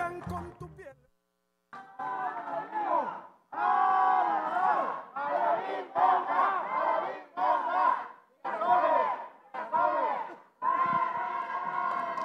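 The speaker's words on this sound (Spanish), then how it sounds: "nosotros brindarle ese aplauso fuerte y bonito" Crowd at a charreada cheering and shouting loudly in bursts for an escaramuza charra women's riding team at a national championship, with sustained roaring swells and brief pauses between waves.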